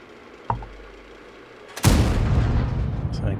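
Tank gun blind shot in World of Tanks, a short knock, then a heavy booming blast with a rumbling tail that lingers to the end.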